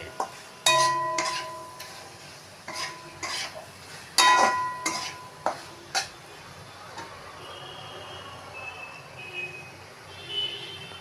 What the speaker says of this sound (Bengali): কত সুন্দর ঝিনুক কষা হচ্ছে দেখুন